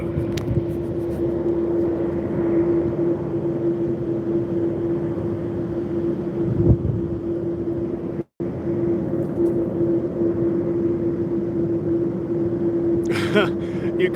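An MD-11 jet airliner departing, a steady loud broadband engine roar with a persistent droning tone held throughout, near and continuous, with faint voices in the background.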